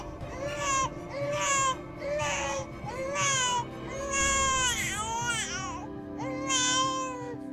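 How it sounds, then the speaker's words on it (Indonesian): An infant cries in a string of about six loud, drawn-out wails, each rising and falling, separated by short breaths, close and clear above a quiet background. "suara bayi itu"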